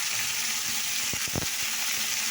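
Cumin and chilli sizzle in a hot pan, a steady, close hiss of frying with a few brief clatters of a utensil against the pan.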